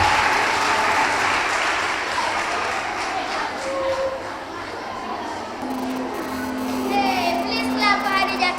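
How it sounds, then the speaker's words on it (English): A crowd applauds a contestant at a children's podium competition, steady broadband clapping that carries through the whole stretch at fairly high level, with a voice and some tonal background sounds surfacing near the end. "Put your hands together for Hadija Sise."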